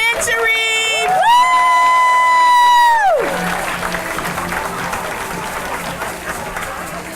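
At a teacher of the year banquet, a long drawn-out vocal whoop rings out, then the crowd breaks into applause and scattered cheers that carry on at a moderate level.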